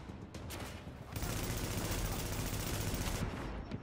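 Sniper gunfire in Tom Clancy's The Division, a dense, sustained burst of shots and impacts that swells after the first second and holds steady, with no speech over it.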